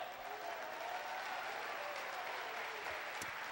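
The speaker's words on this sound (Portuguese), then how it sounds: "dê um brado de júbilo e aplauda o Senhor" A church congregation applauds together during a worship service, a dense sustained clapping from a large crowd, fairly distant and even throughout.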